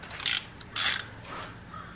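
A hand ratchet turns the crankshaft of a Subaru 2.5L engine two clockwise revolutions during timing belt and water pump replacement, giving two short bursts of dry clicking close by, then quieter mechanical ticking.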